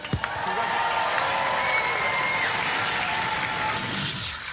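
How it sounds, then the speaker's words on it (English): A crowd claps steadily in sustained applause, dense and even, with faint cheers mixed in before it tapers off. "round of applause for Spawn of Scudder."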